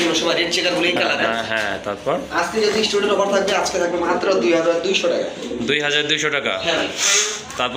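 Pigeons cooing at a pigeon market, with soft, repeated coos mixed in among people talking nearby throughout.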